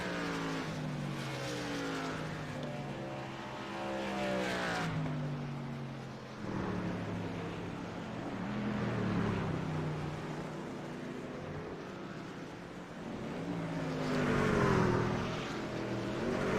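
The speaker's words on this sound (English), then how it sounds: "I turned the engine noise all the way down for this just to hear the tires cry for help" Race truck on the Charlotte Roval road course with engine noise mixed low, tires squealing and wailing through corners in long sliding tones, with a steady rumble of motor underneath throughout.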